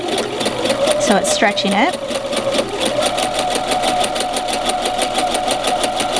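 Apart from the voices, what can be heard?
sewing machine sewing knit fabric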